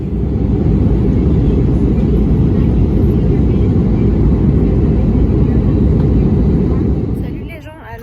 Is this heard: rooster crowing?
no